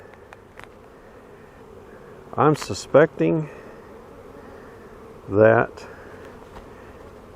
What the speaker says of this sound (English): So there is a ball of bees right there.